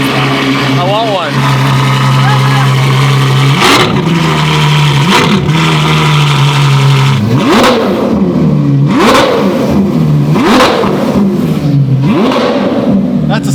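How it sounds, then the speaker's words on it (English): A powerful car engine revs up repeatedly in sharp bursts, roaring loud and close, then drops back between each blip of the throttle. "That's a sick sounding car."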